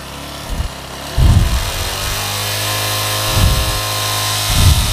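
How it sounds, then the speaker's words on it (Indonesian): A Yamaha Jupiter Z1 motorcycle engine idling loudly up close, blipped with several short throttle revs that rise and fall over a steady mechanical drone. "Coba saya geber, naik apa enggak dia."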